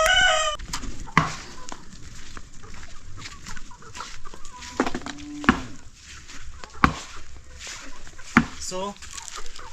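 Village chickens cluck and squawk around a feeder in short, scattered calls, fairly close, with occasional sharper cries and light chopping-like knocks mixed in.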